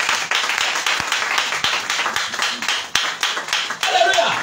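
A church congregation claps in praise of Jesus, dense steady applause filling the room throughout, loud and close, with voices calling out over the clapping.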